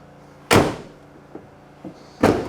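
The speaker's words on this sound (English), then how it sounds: "Door shut nice." Door of a 2000 Dodge Ram 1500 Quad Cab Sport 4x4 pickup truck shuts twice, two loud close slams about two seconds apart with faint clicks and rustle between them.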